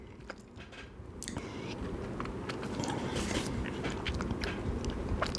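Swishing whiskey in the mouth, a Kentucky chew of cask strength bourbon, wet squelchy chewing and lip smacks rising in intensity, close to the mouth and continuous without speech.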